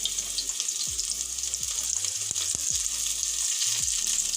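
A generous batch of sliced onions sizzles in hot oil in a pan while haleem is being cooked, giving a steady, loud frying hiss broken by a few low clunks and knocks.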